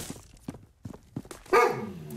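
A dog barks indoors during a casual livestream, a few short sharp barks spaced apart, then a louder, longer bark near the end, close to the microphone.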